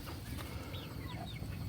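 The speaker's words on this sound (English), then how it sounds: "The little red rooster, here he comes." A small red rooster clucking on a farm, a few soft, brief calls set against steady low background rumble.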